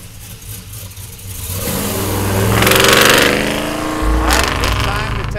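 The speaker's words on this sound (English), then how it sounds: "Listen to that LS3, man. Man, it sounds good. Just love the exhaust system." A 1972 Chevrolet Chevelle convertible with an LS3 V8 and aftermarket exhaust pulling away, the loud engine note swelling as it revs up, easing, then rising again, with a voice speaking over it.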